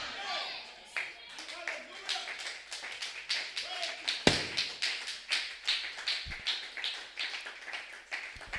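Church congregation clapping in praise of the Lord during a French-language worship service, a steady rhythmic run of handclaps at a moderate pace with a preacher's voice speaking over it.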